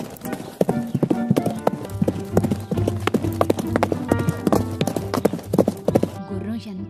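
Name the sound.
horse galloping hooves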